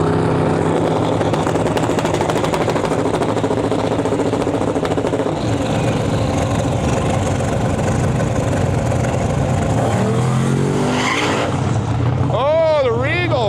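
Drag race car making a full pass down the strip at the Miles of Mayhem event, a loud sustained engine roar throughout with a commentator's voice rising at the end.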